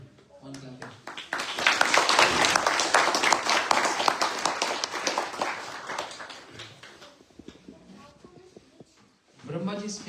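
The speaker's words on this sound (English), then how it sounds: "One clap." A spiritual evening program audience at Sri Mayapur Seva Ashram bursts into a broad wave of clapping that swells quickly, holds loud for several seconds, then thins and fades before a voice resumes speaking.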